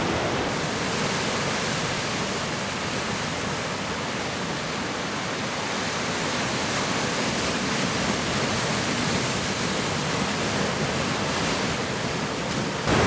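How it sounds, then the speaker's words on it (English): Ocean waves roll onto a rocky shore on the Isle of Harris, a steady broadband roar of surf with some wind, constant and fairly loud throughout, no voices. "I spent quite a bit of time just watching the waves as they're rolling in"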